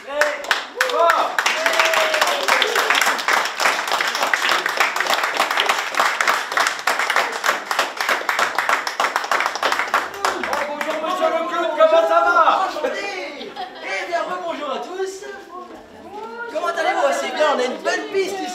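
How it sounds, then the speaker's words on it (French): An audience at a retirement home's 70th anniversary celebration claps loudly and steadily for welcomed hospital guests. Chatter and voices mix in as the clapping thins out toward the end. "je voudrais les accueillir, les remercier très vivement et que vous les applaudissiez très fort"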